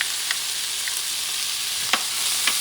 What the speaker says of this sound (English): Add my garlic for a few seconds because you don't want it burned.